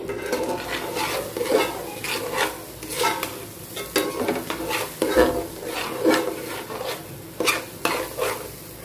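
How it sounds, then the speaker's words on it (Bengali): Rice for chicken biryani frying and being stirred in a pot with oil and meat, a steady sizzle broken by repeated close scraping strokes of a spoon against the metal, with no talking. "এখন এই যে চাউলটা ভালোভাবে ভেজে নিচ্ছি।"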